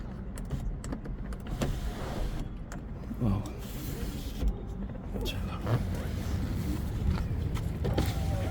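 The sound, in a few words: Skoda Octavia electric sunroof motor moving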